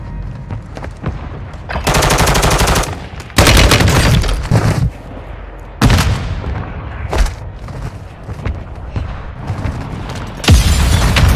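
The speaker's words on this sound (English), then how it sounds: "Hostile mortar strike near your position." Mortar strike explosions and gunfire in the video game Warzone 2: loud sustained bursts of rapid automatic fire and booming impacts, close and intense, with sharp individual shots between the volleys.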